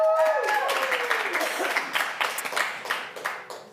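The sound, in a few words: audience applauding at live pitch event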